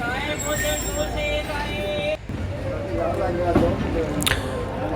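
A train pulls into a Pakistani railway station at speed and brakes hard: a sustained high metallic squeal for about two seconds, then rumbling rolling noise with scattered clanks, under faint background voices.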